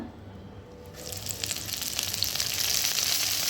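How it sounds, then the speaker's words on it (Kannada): Mint, coriander leaves, green chilli, cinnamon and cloves hit hot oil in a pan for a Nati-style biryani, a brief quiet followed by a broad hissing sizzle that builds and holds. "ಕೊತ್ತಂಬರಿ ಸೊಪ್ಪು, ಹಸಿಮೆಣಸಿನಕಾಯಿ, ಚಕ್ಕೆ ಮತ್ತು ಲವಂಗ ಹಾಕ್ಕೊಂಡು ಚೆನ್ನಾಗಿ ಫ್ರೈ ಮಾಡಿ"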